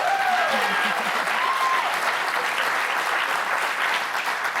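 Applause is used as a sound effect. Dense, loud crowd clapping runs continuously and evenly, with a voice briefly heard over it at the start.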